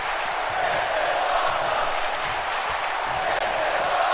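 Virtual arena crowd in a WWE 2K wrestling match roars and cheers in a dense, continuous wash of noise that stays loud and steady from start to finish.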